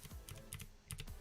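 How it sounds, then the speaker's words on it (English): Arrow keys on a computer keyboard tapped repeatedly in quick, uneven clusters, close and quiet with no talking. "So I'm going to use my arrow keys, push this up"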